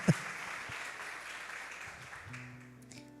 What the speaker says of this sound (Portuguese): Uma salva de palmas para essa Adrianinha.